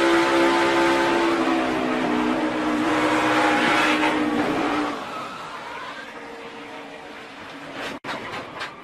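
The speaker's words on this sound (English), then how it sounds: "when you hear that engine rev up" A NASCAR race car engine roars from onboard, a loud sustained drone that shifts pitch and eases off partway through, ending with a sharp jolt.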